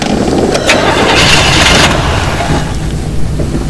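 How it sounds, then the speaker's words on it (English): A car engine cranks and catches, then runs with a steady, loud, close rumble throughout, with no talking. "Start the car."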